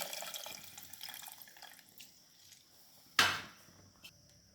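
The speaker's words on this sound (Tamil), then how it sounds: "இப்போ கரைச்சி வச்ச புளியே ஊற்றணும்" Dissolved tamarind water poured into a simmering garlic kulambu: a quiet watery trickle, then one distinct splash and a faint drip after it.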